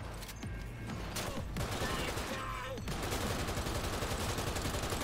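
Rapid automatic gunfire from a weapon in Cyberpunk 2077 rattles in dense bursts, with a few brief gaps, amid other game combat noise.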